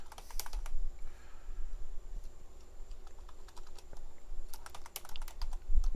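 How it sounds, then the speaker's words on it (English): Fast typing on a computer keyboard, with bursts of crisp, close key clicks and brief pauses between runs, fairly loud and with nobody talking. "Actually, let's type it in as"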